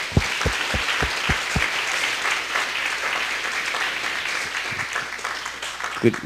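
Applause from a church congregation at a Christmas festival, steady dense clapping filling the room, with a few louder individual claps standing out near the start and end.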